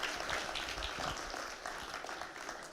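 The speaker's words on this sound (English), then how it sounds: "Let's give him a better clap." Audience applause after a talk at a glaucoma diagnosis symposium, a soft, fairly distant patter of many hands clapping steadily for a few seconds.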